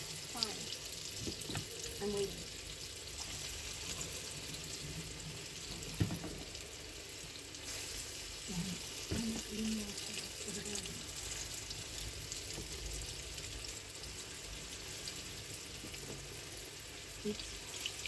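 Egg being mixed in a frying pan: a constant sizzle of frying with scattered scraping and stirring knocks against the pan, heard close and fairly quiet throughout.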